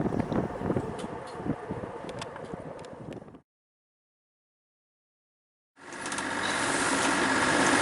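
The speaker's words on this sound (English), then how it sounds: "it's blowing old boots out here today. It's well over 20 knots." Strong wind over 20 knots buffeting a sailing boat at sea, a loud roaring rush with clattering gusts, cut out by a gap of silence before the blustery roar returns and builds.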